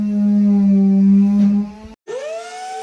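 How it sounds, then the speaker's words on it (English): A router with a 3/8-inch rabbeting bit cutting wood for cabinet rails and stiles makes a loud, steady tonal motor whine up close, which briefly cuts out and then spins back up. "I came back with a rabbiting bit so the piece would fit into the rails and stiles"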